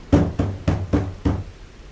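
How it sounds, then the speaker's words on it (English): Five evenly spaced, firm knocks on a door, close and distinct, each ringing briefly before the next, with no voices. "only another knock"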